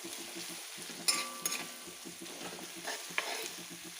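Beef pieces with salt and turmeric powder fry and brown in a heavy-bottomed pan, a steady close sizzle broken by a few sharp scraping stirs of the spoon, with no voices.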